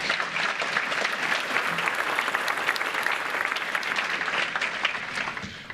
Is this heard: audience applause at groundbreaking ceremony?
yes